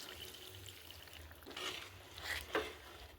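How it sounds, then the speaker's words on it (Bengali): Hot water is poured into a pot of chicken and potato curry, a soft trickling and splashing that rises toward the end with a couple of sharper splashes, fairly quiet and without talk. "গরম জল এবার একটু দিয়ে দেবো"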